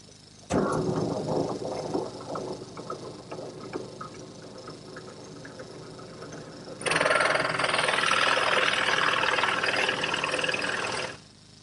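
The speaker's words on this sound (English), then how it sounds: "To drill the holes, I've equipped my drill press with a 1 3/4 inch Forstner bit" A drill press fitted with a 1 3/4 inch Forstner bit bores into a wooden piece, starting with a rising motor whine, then a louder, steady cutting roar over the last few seconds before cutting off.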